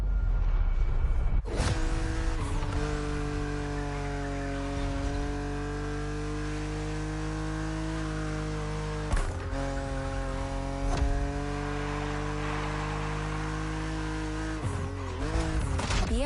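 A BMW Z two-seater roadster racing in The Crew Motorfest, its engine droning loud and steady, with abrupt gear changes and rev shifts breaking the note several times.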